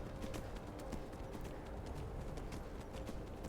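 Hooves clip-clop in a steady galloping rhythm as a horse runs in Skyrim, the fantasy video game, close and continuous with no talk.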